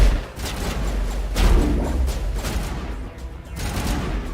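Gunfire in Mass Effect Legendary Edition, a dense, booming barrage of overlapping shots and heavy low rumble with a few stronger bursts, loud and continuous throughout.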